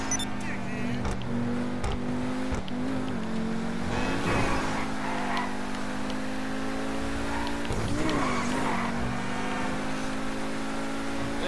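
A Pegassi Zorrusso supercar in the GTA5 video game drives continuously with a steady engine drone, revving and shifting pitch as it corners, with tire squeals at a couple of points, loud and up close throughout.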